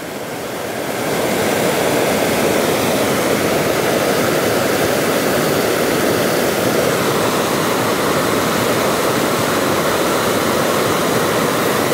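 The swollen Seuti river in flood near Dharan gives a loud, unbroken roar of rushing water that swells in the first second and then holds steady and close, with no voices.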